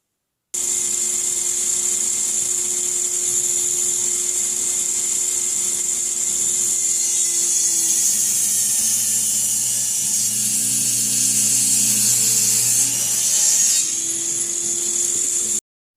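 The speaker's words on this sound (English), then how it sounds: "Now that the 2x4 is 1 inch wide, it's now time to cut strips of 1 inch" A table saw rips a 1-inch-wide 2x4 into 1-inch strips, a steady high-pitched whine that drops in tone as the blade bites the wood, close and continuous throughout.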